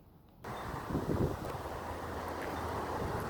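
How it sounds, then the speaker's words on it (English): Wind gusts buffet a microphone outdoors, a low, rough rumble that swells briefly and then settles into a steady blustery noise. "it's a little bit windy"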